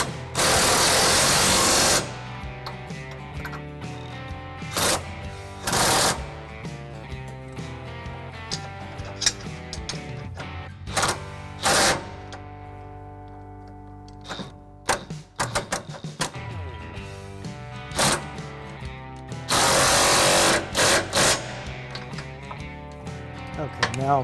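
A ratchet with a 21 mm socket on a five-inch extension tightens trailer hitch bolts on a 2016 Chevy Silverado 1500, loud close clicking in repeated bursts broken by sharp metallic clanks and pauses.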